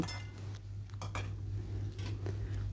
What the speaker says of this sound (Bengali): এবার আমি একটা একটা করে তেল থেকে সমস্ত বড়াগুলো উঠিয়ে নেব